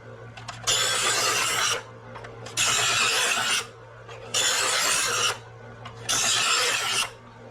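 A knife edge is drawn through a knife sharpener four times in a steady rhythm, each pull a loud, close rasping scrape lasting about a second, with a low hum beneath.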